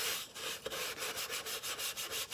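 A stiff brush works dark wax onto slatted wooden thrift-store furniture, giving soft, close scratchy strokes in a steady back-and-forth rhythm, about six quick strokes a second near the end.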